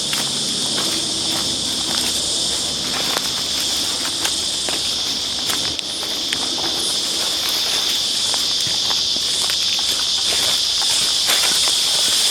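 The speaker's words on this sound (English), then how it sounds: "You can probably hear in the background the strident shrill of the cicadas." Shrill, steady high-pitched insect drone of cicadas among gum trees fills the background continuously, with faint scattered rustles and ticks beneath.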